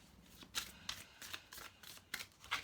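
Cards shuffled in a series of crisp riffling bursts, about six quick flutters spaced roughly half a second apart, close by with no talking.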